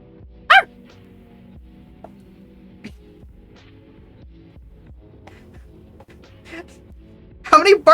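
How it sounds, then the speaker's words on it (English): A dog bark sound alert plays on a livestream over a low background hum, with a sharp burst early and a louder cluster of barks at the end. Quieter clicks and faint noises fall in between. "One more bark."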